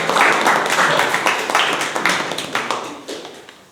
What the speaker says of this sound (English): Let's give one big round of applause for Jokemaster Bhawna.